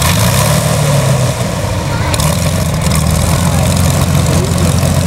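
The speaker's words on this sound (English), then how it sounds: "hopefully now the engine's going to catch on" A Spitfire's Rolls-Royce aircraft engine starts and runs, a loud, deep, continuous roar with a steady low throb filling the whole clip, with a voice speaking faintly beneath it.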